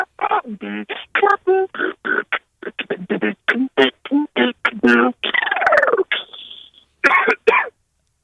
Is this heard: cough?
yes